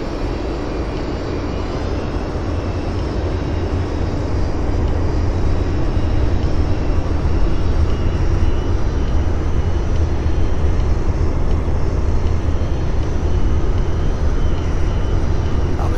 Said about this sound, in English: Let's deploy our landing gear and our flaps.